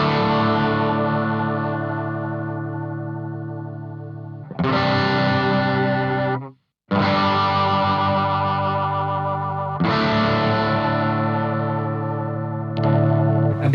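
Electric guitar through a Hotone Britwind Nano with chorus and delay, with loud, distorted sustained chords ringing for several seconds each, a short gap in the middle, and a shimmering doubled tone, played alone.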